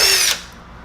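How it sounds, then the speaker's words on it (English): A cordless impact driver fitted with a 7/16 bit spins loud and close while removing mirror screws on a 2000-or-later Ford Super Duty truck. The whine runs for a moment, then cuts off and winds down. "we're going to go ahead and get our impact driver with our 7/16 drill bit on it"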